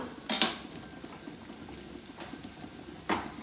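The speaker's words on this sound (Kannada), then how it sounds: "ನೋಡಿ ಈಗ ರೈಸ್ ಆಗಿರೋದನ್ನ ಕಲಿಸ್ಕೊಂಡು ನೀಟಾಗಿ ಅದಕ್ಕೆ ಹಾಕೊಳ್ಳೋಣ" Cooked rice being stirred into a lemon rice seasoning in a pan, heard as two brief scraping, clinking spoon strokes, one early and one near the end, with quiet background between.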